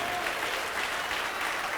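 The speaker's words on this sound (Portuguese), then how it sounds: "dê para esta palavra eterna a melhor salva de palmas de toda a sua vida." Church congregation bursting into sustained, dense applause, loud and even throughout the short stretch with no pauses.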